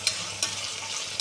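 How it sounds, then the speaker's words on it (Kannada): Vegetables frying in oil in a pan for a vegetable palav, a steady bright sizzle with a few sharp scraping stirs spaced through it, close and uninterrupted by voices. "ಇವಾಗ ಇಷ್ಟು ತರಕಾರಿನ ಸ್ವಲ್ಪ ನೀಟಾಗಿ ಎಣ್ಣೆ ಒಳಗೆ ಬೇಯಿಸ್ಕೊಳ್ಳೋಣ"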